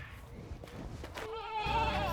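Farm goats bleat briefly near the microphone at feeding time, a short wavering cry rising toward the end after some low rustling.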